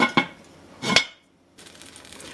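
Metal lid set onto a cooking pot of simmering onion and garlic: two close clanks about a second apart, the second a longer rattle as it settles, followed by near silence and a faint hiss.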